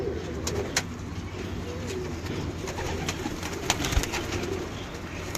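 Breeder pigeons in racks coo softly and continuously in the background, faint layered murmuring under light ambient noise, with no talking.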